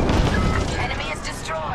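Star Wars: Squadrons space combat: a rumbling blast as an enemy TIE starfighter is destroyed, dense and loud throughout with crackling debris and sweeping whines over continuous low roar.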